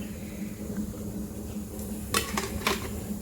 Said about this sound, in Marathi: आपण या प्लेटा ज्या आपण वड्या ठेवलेल्या आहेत त्या इडलीच्या प्लेटा आपण याच्यामध्ये ठेवून घेऊयात